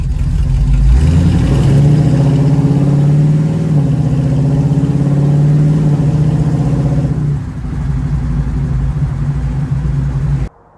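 A car engine revs loudly and steadily up close in first gear, holding a strained pitch, then eases and drops back before cutting off.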